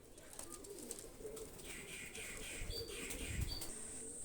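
Pigeons coo softly in a quiet setting, with a few chirps and a brief flutter of wings.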